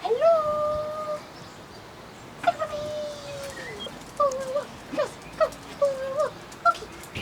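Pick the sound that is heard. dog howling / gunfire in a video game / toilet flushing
dog howling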